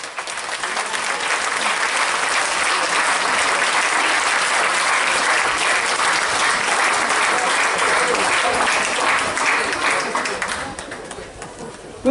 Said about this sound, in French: Jacques Dutronc, vous pouvez l'applaudir bien fort.